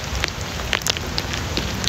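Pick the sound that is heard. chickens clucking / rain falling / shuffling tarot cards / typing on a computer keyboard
rain falling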